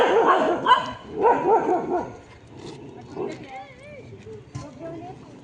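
Dogs bark and yip in several sharp bursts, then whimper and whine with rising, falling cries, close by, with people talking over them.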